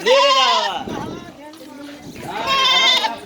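White Teddy breeder goat at a livestock market, bleating loudly and close, two drawn-out quavering calls separated by a brief pause, with someone speaking between them.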